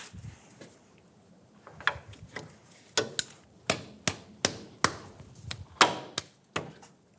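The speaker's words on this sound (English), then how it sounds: "Pull the caliper off of its hook." Brake caliper being pulled off its hook during front brake replacement on a 2007-2017 Ford Expedition: a run of sharp metallic clanks and knocks, close and fairly loud, spaced roughly evenly with light rustling between.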